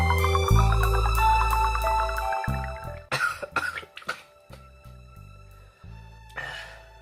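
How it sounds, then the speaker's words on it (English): A person coughs and clears their throat in several harsh bursts while rinsing their nose with a neti pot, close and loud over a steady background hum. "that's why I'm getting the coughing"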